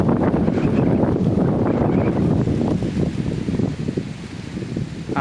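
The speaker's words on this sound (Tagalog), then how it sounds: "Lakas ng hangin." Strong wind batters the microphone in loud, continuous buffeting gusts at a high outdoor spot at the top of a long stair climb, easing slightly toward the end.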